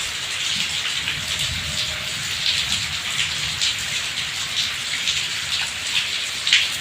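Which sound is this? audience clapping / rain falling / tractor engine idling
rain falling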